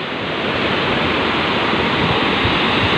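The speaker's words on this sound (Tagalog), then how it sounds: "Tingin ko angge, talsik ng tubig." Fine splashing spray of water rushes in a steady, loud wash of hiss close by, unbroken throughout with no talking, under fair weather without rain.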